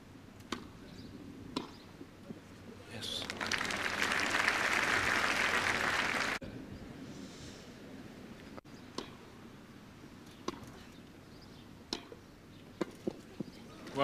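Outdoor park crowd at a 1978 Eastbourne women's tennis final applauding a rally, a burst of clapping swelling for about three seconds then cutting off, with scattered ball strikes and quieter court sounds before and after.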